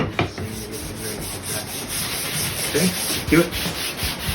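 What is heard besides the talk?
sanding a wooden bookmark along the grain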